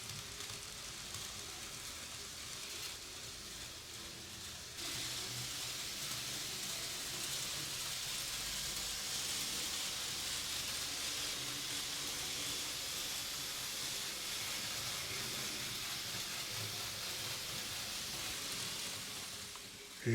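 A Märklin 3021 DB V200 model locomotive runs at full throttle, giving a steady, faint electric whir and hiss that grows a little louder partway through and holds even, with no talking.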